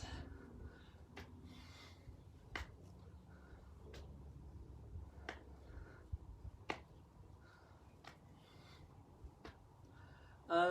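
Sharp single claps ring out at spaced, irregular intervals during a live arm exercise routine, crisp but fairly quiet over a low steady background hum.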